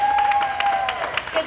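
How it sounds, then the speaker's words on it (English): Brief, moderately loud clapping from spectators at a 4H and FFA county fair alpaca show, a second or so of applause with a thin whistling tone threaded through it. "Can we get a round of applause for what you guys did?"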